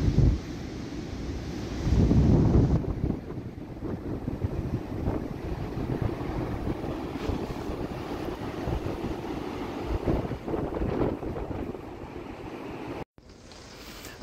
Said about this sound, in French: Parce que là, la pluie a bien commencé